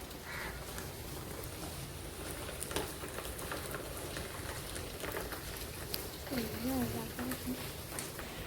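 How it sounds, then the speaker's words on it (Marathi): Light rain falling outdoors, a soft continuous patter of drops that runs throughout, with a person speaking over it and a faint bird call toward the end. "यावेळेस थोडा वेळ पाऊस पडत आहे"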